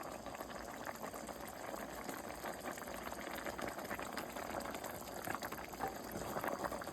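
A pot of turnip greens with beef bones simmering on the stove, giving a continuous soft bubbling and burbling that stays even and close throughout, with no talking.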